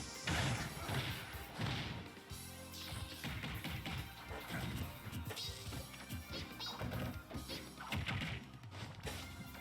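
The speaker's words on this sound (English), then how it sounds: "I love Pikachu's sound effect so much." In a Super Smash Bros. match, Pikachu attack effects arrive as a dense run of sharp smacks, crashes and whooshes, loud and busy throughout with little pause.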